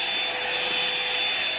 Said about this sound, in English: And so that's what I'm using to blow dry my hair.